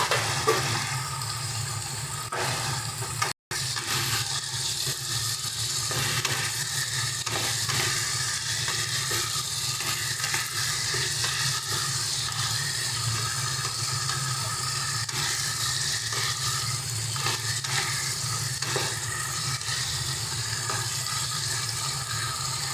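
Chopped tomato and fried okra go into a pan of mixed vegetarian vegetables, raising a steady, loud sizzle of frying with occasional stirring scrapes, with no talking.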